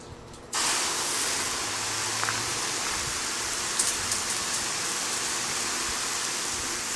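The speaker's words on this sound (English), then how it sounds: "It's pouring! It's raining!" Steady loud downpour of simulated rain poured over a landslide science model, starting abruptly after a brief quiet moment and continuing as a dense, even hiss with small scattered splashes throughout.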